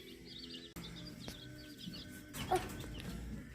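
Baby chicks in a brooder peep and chirp in a busy high-pitched chorus, steady throughout with a brief louder flurry near the end and a low background hum beneath.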